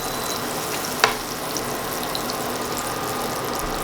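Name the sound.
butter melting and sizzling in a hot pan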